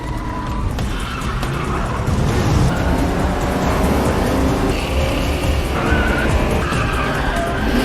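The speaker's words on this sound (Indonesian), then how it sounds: "Dengan sigap Paul berusaha mengejar mereka sehingga terjadi aksi kejar-kejaran" An action-film car chase with skidding tires: a loud, continuous roar of engines and tire noise fills the scene, with dense broadband rushing throughout and no talking.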